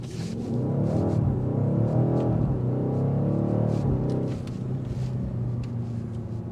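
Engine and exhaust of a 2025 BMW XM with 644 horsepower pulling hard under acceleration, a loud, continuous rising drone with climbing harmonics that eases slightly near the end.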